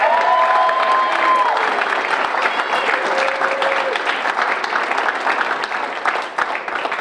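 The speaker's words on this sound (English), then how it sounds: "So I'm gonna bring Bailey up and we can clap." A gathered audience claps steadily for Bailey at her NAIA championship ring ceremony, a dense, sustained round of applause with some cheering mixed in, loud and close, fading slightly toward the end.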